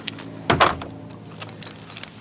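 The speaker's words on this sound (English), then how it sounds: "And then I'll close the door" A door swings shut with one brief bump and rattle, followed by faint small clicks and handling noises in a quiet room.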